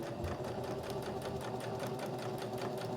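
A sewing machine runs steadily while chain piecing fabric pockets for a business card holder, a continuous mechanical whir with a fast, even stitching rhythm and no pauses.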